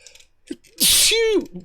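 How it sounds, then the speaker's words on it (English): One loud, close sneeze bursts out mid-conversation in an airport-building game session, with brief quiet speech before it and a voice trailing after. "Sorry, sneezing."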